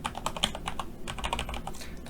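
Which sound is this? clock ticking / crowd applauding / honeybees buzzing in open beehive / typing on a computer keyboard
typing on a computer keyboard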